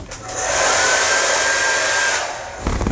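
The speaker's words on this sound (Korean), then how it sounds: "고정이 잘 안 돼가지고 드라이기 한 번만 쐬고 올게요." A hair dryer blows on hair with a loud, steady, close-up whoosh for nearly three seconds. It is switched off with a brief rustle at the end, and nobody speaks.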